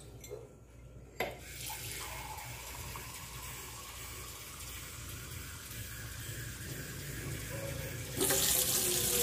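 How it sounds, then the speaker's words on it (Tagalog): Two cups of water pouring into a pot on the stove while making sambong tea, a steady rushing stream that runs throughout and grows louder near the end. "Lalagyan natin ng 2 cups of water, guys."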